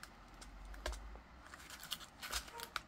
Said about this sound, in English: I need to cut this open.